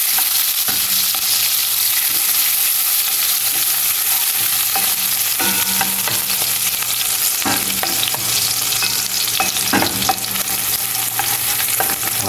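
Onion and pepper frying in a pan, a continuous bright sizzle with scattered crackles and occasional scraping stirs, close and steady with no talking.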